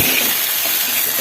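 Soaked tamarind water hits a hot pan of sautéed ingredients for rasam, producing a loud, close, steady hiss that lasts about a second with no talking.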